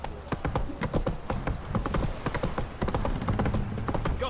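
Roach, the horse from The Witcher 3, gallops with a rapid, steady clip-clop of hooves, close and loud, continuing for several seconds with no talk.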